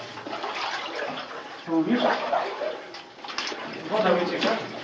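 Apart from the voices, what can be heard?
water seeping through collapse in mine adit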